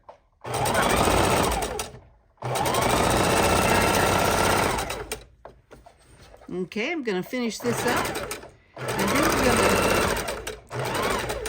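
A sewing machine runs in loud, steady bursts with short pauses between, while a person talks briefly during a break in the stitching.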